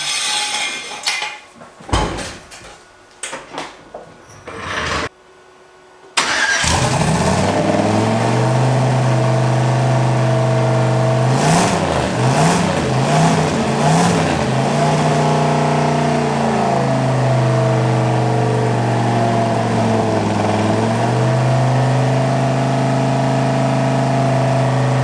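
Budget turbocharged LS-swapped car cranks and fires after some clunks and handling noise, then settles into a loud, close, steady running drone with several revs rising and falling as it drives.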